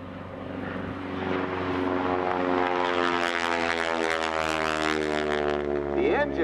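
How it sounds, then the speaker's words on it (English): A propeller airplane at the NAS Oceana airshow passes with a loud rising engine growl and a rasping prop buzz, steady and close. "The engine has a nice low rumble, but those propeller tips really give it a snap."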